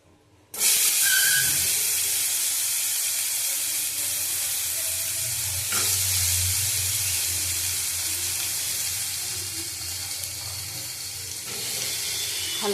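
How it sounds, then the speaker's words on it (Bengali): Potato and eggplant pieces hit hot oil in a pan for a radish greens dish, setting off a loud, steady sizzle and hiss that runs on continuously with a brief flare partway through. "আলু, বেগুন এগুলি দিয়ে মূলো শাক হবে। ওই যে মূলো শাক, আমি এগুলি ভেজে নেবো।"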